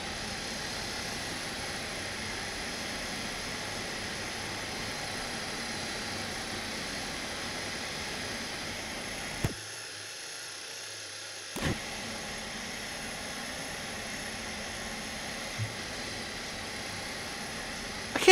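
Aircraft engine drone from the Scrap Mechanic game as a craft comes in to land, a steady loud hum that cuts out briefly near the middle with a couple of soft knocks before resuming.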